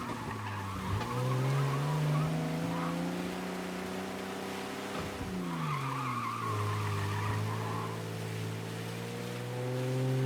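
A car in Mafia: Definitive Edition skids along a flooded, rain-soaked road, with a steady loud engine drone that rises and falls in pitch and sliding tire noise throughout.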